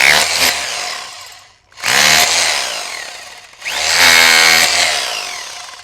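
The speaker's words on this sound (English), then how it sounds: "let's go ahead and test out the hammer function" A Bosch Bulldog Xtreme rotary hammer chisels old concrete in three loud, sustained bursts of rapid hammering, each cutting off sharply with brief pauses between.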